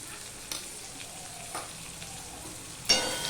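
Tomato and ginger paste with green chillies frying in a pan for pumpkin greens, a soft steady sizzle broken by a few faint stirring scrapes and a louder clack near the end.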